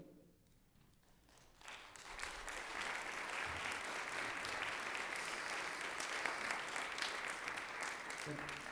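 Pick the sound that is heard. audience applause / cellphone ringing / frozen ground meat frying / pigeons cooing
audience applause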